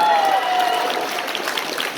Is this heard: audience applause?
yes